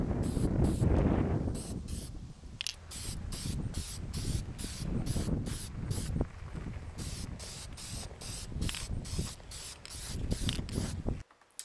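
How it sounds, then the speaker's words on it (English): Aerosol spray can laying coats of black paint inside a clear Lexan RC car body, steady close hissing in short repeated bursts across the whole stretch, no voices. "Now we're getting ready to put the first coat of paint on."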